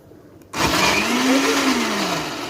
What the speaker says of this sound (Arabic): يلا نعمله على الخلاط واوريكم